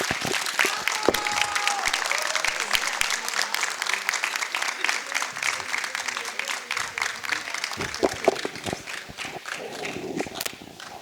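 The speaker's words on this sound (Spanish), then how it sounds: "ese fuerte aplauso para el doctor" Lecture audience applauding at the end of a talk, a dense run of claps that holds steady throughout, with a voice speaking over it and occasional sharper individual claps standing out.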